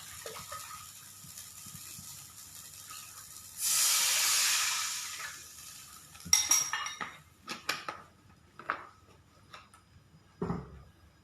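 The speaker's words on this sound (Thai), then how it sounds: "ระหว่างต้มน้ำนะคะ" A pot of water heating on a stove for a Thai soup gives off a steady steam hiss for a couple of seconds, followed by scattered clinks and knocks of kitchen utensils and pans.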